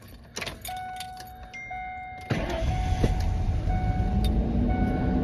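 A 1998 Ford Expedition suspected of fuel trouble starts up, with a chime and clicks followed by the engine catching and settling into a steady, loud idle rumble.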